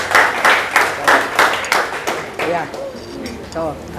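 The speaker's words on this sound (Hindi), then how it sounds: "तालियां तालियां।" Guests at a birthday party clap in quick rhythmic bursts of hand claps close by, then the clapping thins as voices rise and people chatter over the last claps.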